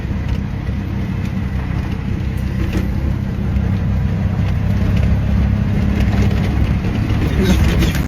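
Ferrari engine idling, a steady low rumble heard from close inside or beside the car, with no talk over it.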